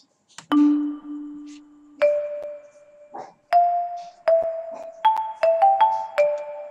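Sampled chromatic percussion from Miroslav Philharmonik 2, struck bell and mallet tones ringing out one by one in a slow melodic line, each note clear with a short decay, no voices.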